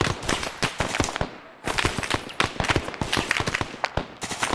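Suppressed AK rifle fire in a Vietnam War game airbase sabotage mission: sharp, close, rapid muffled shots in quick bursts and double taps, with a brief pause between volleys.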